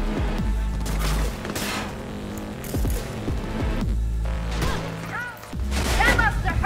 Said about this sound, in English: There are explosions happening down there.